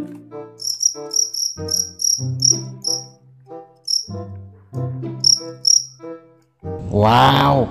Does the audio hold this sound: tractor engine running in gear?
no